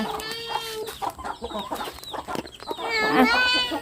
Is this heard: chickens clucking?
yes